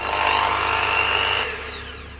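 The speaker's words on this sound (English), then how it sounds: "Time for some power tools." A power tool whines steadily at high pitch, then winds down as the motor slows near the end.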